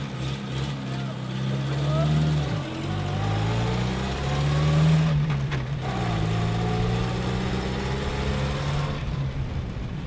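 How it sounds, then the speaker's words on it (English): Classic car engine at a concours d'elegance event, rumbling steadily close by with rising and falling revs, and people talking over it. "Now that's an angry car."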